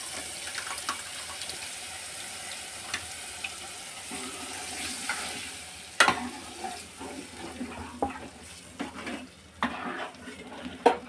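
Cooked dal goes into a pan with slit green chillies and is stirred by hand: close, intermittent spoon scrapes and metallic clinks against the pan, with sharper knocks in the second half and no voices.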